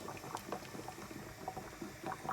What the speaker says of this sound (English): So the potatoes are boiling, and I've also added the long grain rice